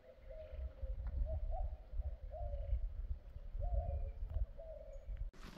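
Golden eagles calling near their nests on a hillside, a series of repeated mid-pitched calls spread across the clip, moderately distant, over steady outdoor wind noise.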